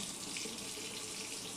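Water trickles steadily from a spoon onto a scale, topping a container up to 100 grams for a density demonstration; a soft, continuous watery hiss with no talking.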